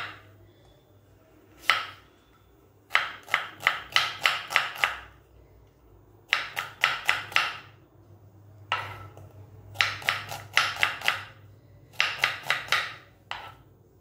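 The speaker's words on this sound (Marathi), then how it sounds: "हा कांदा उभा चिरून घ्यायचा आहे।" An onion sliced lengthwise with a knife on a board, heard as rapid clusters of crisp chopping taps in bursts of four to eight, separated by short pauses, close and clear with no talking.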